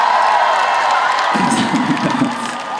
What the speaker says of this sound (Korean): 오늘 이 자리에 박서진 잘했다 생각하시면 또 한 번만 큰 박수 한번 치겠어요